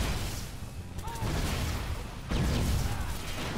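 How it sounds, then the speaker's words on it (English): Muffled booms and gunfire-like blasts rumble continuously, with a heavier burst partway through; Watch_Dogs game battle explosions with faint voice underneath. "There's so many explosions."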